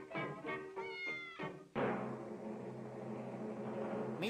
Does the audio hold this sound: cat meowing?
yes